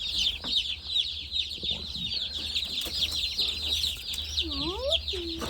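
Baby chicks in a brooder box peep continuously in a high, busy chorus, near and fairly loud. Someone talks over the chirping.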